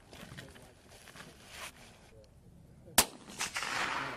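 Sniper rifle fired at a European sniper squad competition: a single sharp, loud shot cracks out amid outdoor chatter, followed by a few softer bursts of noise as people speak nearby.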